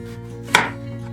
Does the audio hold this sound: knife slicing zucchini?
yes